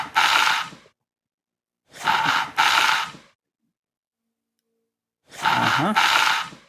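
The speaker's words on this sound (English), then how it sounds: "drinking lemonade out of her straw, out of her super long straw" A girl slurps lemonade through a super long straw, giving three loud, close, airy sucking bursts separated by short silences, the last with a gurgling catch.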